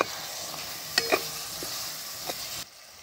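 Chopped tomato and spices are stirred in a hot pan with oil, a soft sizzle under a few spoon clinks and scrapes, going quieter at the end.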